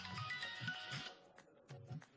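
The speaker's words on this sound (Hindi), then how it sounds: "फरहाद का फोन" A mobile phone ringtone in a Pakistani TV drama scene plays a bright, repeating melodic pattern with a low pulsing beat, fairly faint, then cuts off and leaves quieter low thumps.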